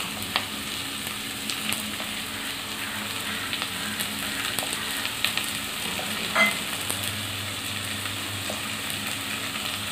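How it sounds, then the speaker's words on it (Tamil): Onions sautéing in hot oil in a pan for a Tamil prawn gravy, a steady close frying sizzle with occasional stirring clicks and scrapes throughout. "இப்போ கொஞ்சம் நல்லா வெங்காயம் வதங்கிடுச்சு."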